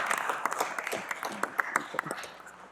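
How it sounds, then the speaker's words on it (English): Scattered, thin applause in a town council chamber right after a unanimous vote, with a handful of separate claps rising and falling at moderate distance against a murmur of room noise. "A smattering of applause."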